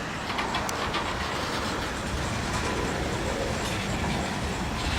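A Norfolk Southern manifest freight train led by a trio of Dash 9 locomotives rolls slowly past, giving a steady broadband rumble of rail cars with faint wheel clatter and squeal, continuous and fairly close.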